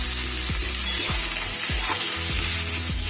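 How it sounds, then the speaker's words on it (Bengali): Bottle gourd stalks sizzling steadily in a pan of oil, with a ladle scraping and stirring in about five regular strokes, close and continuous. "ডাঁটাগুলো দিয়ে নাড়াচাড়া করতে করতে"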